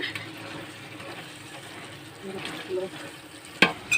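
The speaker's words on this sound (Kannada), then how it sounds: "ಧನಿಯಾ ಹಾಕೊಂಡು ನೋಡಿ ಈ ಥರ ಚೆನ್ನಾಗಿ ಮಿಕ್ಸ್ ಮಾಡ್ಕೋಬೇಕು" A spoon stirs coriander into biryani masala in a pan, a soft continuous scraping and sizzling texture close by, ending in a few sharper clinks against the pan.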